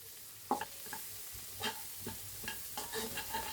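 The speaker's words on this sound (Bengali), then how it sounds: "আমার মশলাটা তেলে ভাজা ভাজা হয়ে গেছে, এখন আমি কাঁচামরিচটাও দিয়ে দিলাম।" Spices and green chilies fry in oil in a pan for a river shrimp bhuna. Faint sizzling sits under intermittent scraping stirs, with no one talking.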